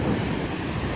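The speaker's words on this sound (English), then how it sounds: "Waves up to a couple of metres." Strong wind and surf on the shore at Pattaya after a storm, a continuous loud roar of rushing air and breaking waves with no distinct pauses and no voices.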